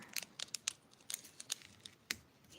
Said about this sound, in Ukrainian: пакетик відкриваємо